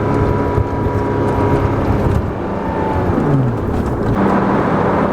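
Engine of a 987 Porsche Cayman S, a mid-engined car fitted with a lightweight flywheel, droning loud and steady from inside the cabin with a low rumble and a brief rising-then-falling rev.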